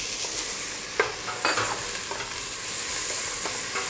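Onions sizzle steadily in a hot pan after garlic, with a few sharp stirring scrapes over the constant frying hiss, while cooking kare-kare.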